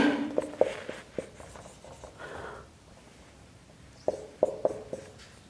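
Marker or chalk writing on a board, heard as bursts of short squeaky strokes and taps, a quiet gap in the middle, then more quick strokes, no talk.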